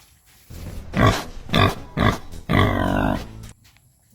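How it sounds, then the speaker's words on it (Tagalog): Pigs grunting in a pen, a series of loud, close, rough grunts and squeals in quick succession, ending in a longer drawn-out squeal. "Mao ni among mga baboy"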